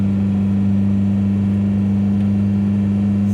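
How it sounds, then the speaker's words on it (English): A Toyota pickup swapped to a 1.9L TDI diesel pulls in third gear while towing about 11,000 lbs total, a loud, steady low engine drone with strong constant tones heard from inside the cab. "third gear gets me right up there to about 50 though"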